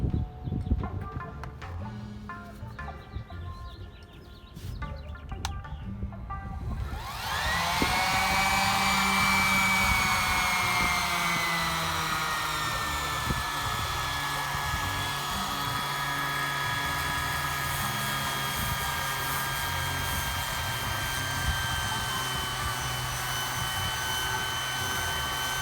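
After some faint clinks and scraping, a power sander on a yacht's teak deck starts up with a high, steady whine and keeps running loudly.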